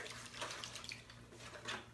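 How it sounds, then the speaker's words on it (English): A peeled craft design is set into water, making faint, soft sloshing and light trickling splashes over about two seconds, with no voices. "I'm just going to place this in water"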